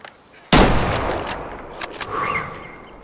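A single loud rifle shot cracks out at a red deer in the hunting game Way of the Hunter, followed by a long echoing decay and a few faint distant thuds within the game soundscape.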